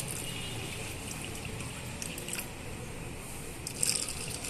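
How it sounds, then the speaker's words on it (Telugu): Water is poured over soaking sago and flattened rice for sponge dosa batter, a soft, faint trickle and splash with light squishy stirring, steady and quiet, with no talk over it. "ఇప్పుడు మనము మంచినీళ్ళు పోసుకొని"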